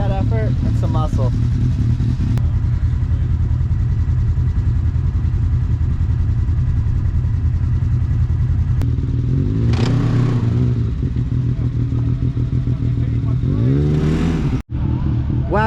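Can-Am and Wildcat side-by-sides rumble and rev in the desert while pulling a stuck Polaris free, a loud, close engine drone with two sharp rising revs, under people talking and shouting.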